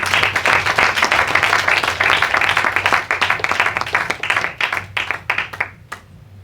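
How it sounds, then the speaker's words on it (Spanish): Church congregation applauding during a service, loud close clapping from many hands that thins out into scattered individual claps before stopping. "Un aplauso al Señor que es bueno"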